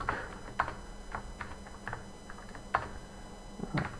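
Keystrokes on a computer keyboard while C code is typed, a scattered run of light, irregular clicks and taps at close range, with no talking.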